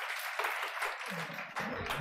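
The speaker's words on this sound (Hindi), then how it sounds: "यशवंत के लिए आपने खूब सारी तालियां बजाई" An audience in a classroom lecture hall claps in a brief burst of applause, a dense close patter of many hands that holds steady for a couple of seconds.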